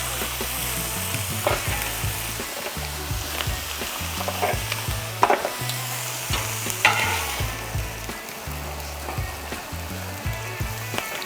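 Ham slices sizzle steadily on a hot Blackstone griddle, a dense continuous crackle with occasional sharper spatters and scraping bursts as the meat is flipped, no voices.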